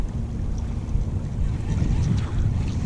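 Wind blowing over the Willamette River rumbles loudly against the microphone, a steady low buffeting roar with no voices.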